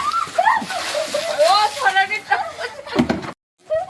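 A child bathes under a running tap, and water splashes and sloshes in brief bursts while people talk loudly close by.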